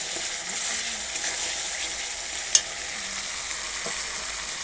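Spice masala being fried and stirred in a pan, a steady close sizzle with a single sharp utensil clack midway, no voices.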